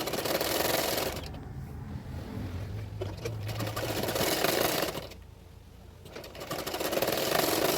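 A sewing machine runs in steady bursts as it stitches the sleeve of a double katori blouse, its motor whirring loudly with brief pauses and no talk over it.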